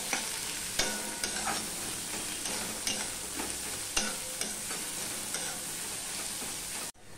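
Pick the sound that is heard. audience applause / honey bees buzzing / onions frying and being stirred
onions frying and being stirred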